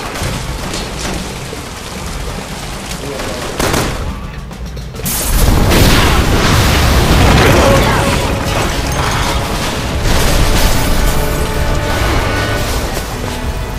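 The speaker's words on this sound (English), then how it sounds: "Someone shoot the gas! We can blow these things to kingdom come!" A gas explosion in the Resident Evil 6 town level, a loud sudden boom that swells into a long, dense roar of blast and debris which keeps rumbling to the end.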